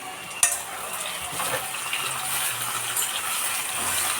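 A spoon scrapes and turns bitter gourd and tomato curry in a pan, one sharp clink at the start followed by soft, continuous stirring over a faint frying sizzle, with no talking.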